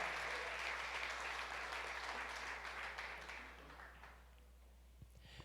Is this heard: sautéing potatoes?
no